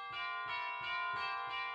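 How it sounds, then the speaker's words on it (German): Bright bells ring through a Christmas song arrangement, chosen for a clear, cold, wintry sound. Bright chiming strikes repeat in a steady rhythm, each with a long shimmering ring that overlaps the next. "Und dann für den klaren, kalten, winterlichen Sound Glocken."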